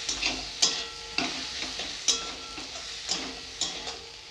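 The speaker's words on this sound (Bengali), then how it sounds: "ধনে গুঁড়ো জিরা গুঁড়ো দিয়ে ভালো করে মশলাটাকে কষাবো" Chili, turmeric, coriander and cumin powders frying in a pan, a soft steady sizzle broken by regular scraping stirs of a spatula, about eight strokes, close and alone.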